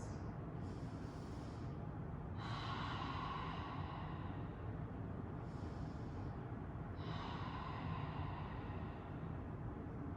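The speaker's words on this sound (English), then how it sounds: "gaze to neutral, 5 deep breaths" Slow, deep breathing during a low back rehab stretch, with two long, airy exhalations rising over a steady low background hum, close and fairly quiet.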